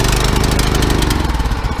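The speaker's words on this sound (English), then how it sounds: "1 pull, and this fired right up." A cold Troy-Bilt Horse rototiller engine starts on one pull and runs, a loud, close, rough mid-pitched chugging with rapid regular firing pulses and no talk over it.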